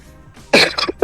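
A single adult cough, a sharp burst followed by two shorter coughs, close and fairly loud against a quiet room.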